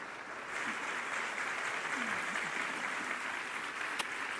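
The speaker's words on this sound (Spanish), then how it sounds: "Demos un fuertísimo aplauso" Sustained applause from an audience at an entrepreneurship talk in Spanish, steady and moderately loud throughout, with brief voices faintly audible beneath the clapping.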